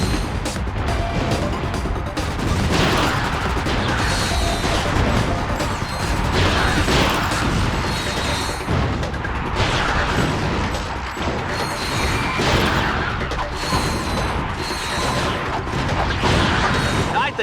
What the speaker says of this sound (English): explosions are pretty